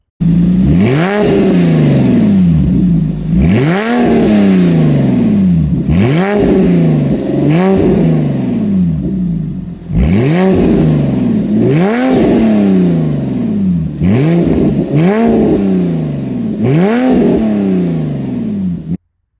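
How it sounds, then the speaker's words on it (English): Porsche 997.2 fitted with an ECG Performance sport exhaust, revved in a run of about seven sharp, loud blips, each rising quickly and falling back between bursts, close by with no talking. "This exhaust looks and sounds great. Let's have a listen."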